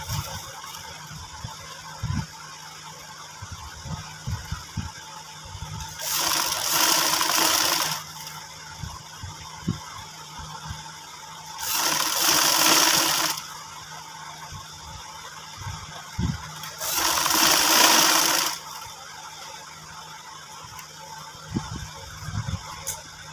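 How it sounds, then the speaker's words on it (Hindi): A sewing machine stitches a folded fabric strip for a men's garment patti, running in three separate bursts of a couple of seconds each, separated by quieter gaps with handling noise. "अब इसके ऊपर सिलाई लगाएं।"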